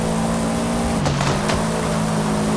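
A Subaru Impreza WRX STI slides through a corner, its engine droning steadily while a brief tire squeal and scrubbing noise breaks in around the middle, then the engine settles back to a constant note.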